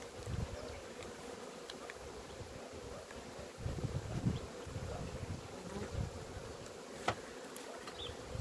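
Honeybees buzzing around a hive frame holding honey, a close, steady droning hum with a few louder passes and brief knocks, and no voices.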